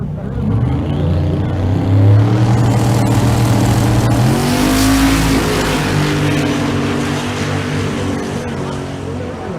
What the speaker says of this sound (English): the 410 Camaro in the left lane